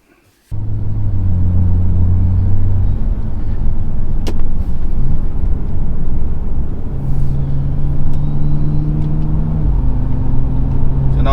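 A BMW fitted with a new carbon fiber steering wheel starts with a sudden engine catch, then idles and drives with a loud steady engine rumble and shifting tones, no talk.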